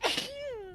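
A single sneeze, fairly quiet: a sharp breathy burst that trails off into a short voiced tail lasting under a second, with nothing else around it.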